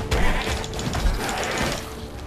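Goat-like enemies in the video game Path of Exile bleat amid dense, busy combat noise, with repeated short bleats that stay close and fairly loud throughout.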